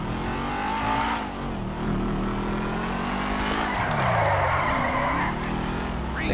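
A car in the GTA 5 video game races along a narrow lane with a droning engine that rises and falls, joined by long squealing tire skids and scraping.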